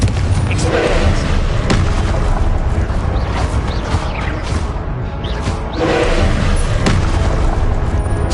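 Confringo spell explosions in the video game Hogwarts Legacy: loud, deep booms and thuds burst repeatedly amid whooshing magic effects in a dense, continuous battle din.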